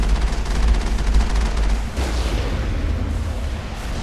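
The armored Mako vehicle in Mass Effect destroys a turret, producing a loud, sustained rumbling explosion with heavy low-end booming and crackling debris, with no talking.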